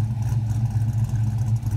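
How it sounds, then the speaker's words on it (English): A 1994 Ford Mustang GT V8 idles steadily at close range, its H-pipe exhaust and big bore mufflers giving a deep, even low rumble with no talk over it. "I think it's idling around 900 or so."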